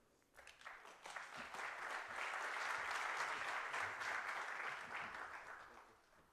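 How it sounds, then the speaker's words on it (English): Audience applause fills a ceremony hall at an economic development forum opening, rising quickly after a brief pause and holding as dense, sustained clapping from a large crowd before tapering slightly at the end. "Another round of applause."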